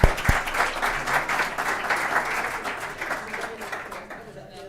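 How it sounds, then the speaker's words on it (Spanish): An audience applauds for a guest at a panel discussion on press, power and digitalisation: dense, steady clapping that fills the room from the start and thins out toward the end. "le vamos a dar un aplauso a nuestro amigo New York"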